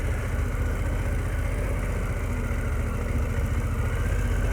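Harley-Davidson Pan America motorcycle engine running steadily close by, a continuous low rumble with a fast throbbing pulse and no break or change in level, heard alone without voices.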